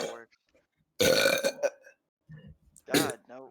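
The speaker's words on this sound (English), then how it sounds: "if you guys want to make yourself burp, just swallow air" Loud, close burps during a burping contest, with one long guttural belch followed by a shorter one, and people talking and reacting in between.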